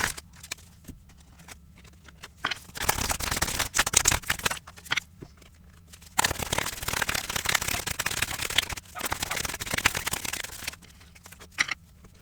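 Tarot cards are shuffled in two long crisp riffling bursts, with brief quiet gaps and soft handling sounds in between.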